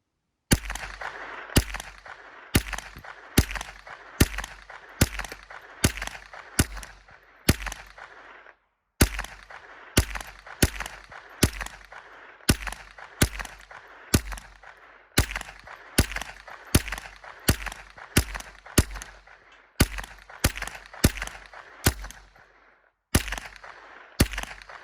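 A .22 rifle fired rapidly through a full Pro Mag magazine, sharp cracking shots in quick strings with short pauses between groups, loud and close, outdoors with no talking.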